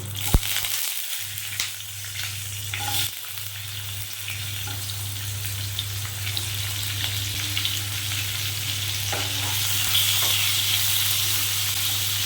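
Carrots, potatoes and papaya sizzle steadily in a hot pan, a constant crackling hiss with occasional stirring scrapes, close by and without talk.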